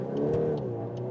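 A VW Golf R Black Edition with all-wheel drive accelerates out of a corner, a brief steady engine drone heard from inside the car with a few faint clicks.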